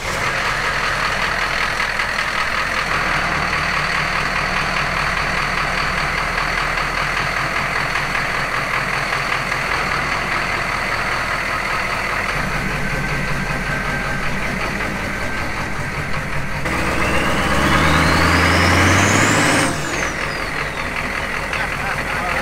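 A turbocharged Humvee with a swapped 4-speed transmission runs on a test drive, its engine droning loud and steady inside the cab, with a rising whine near the end as it revs and shifts; a voice speaks briefly over it.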